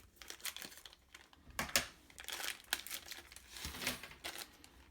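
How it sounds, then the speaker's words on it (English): A plastic bag of springs for an Extinction Blaster kit is opened close up, giving quiet crinkling and rustling with a few sharp tearing crackles and no talking. "I'm going to open the other bag of springs"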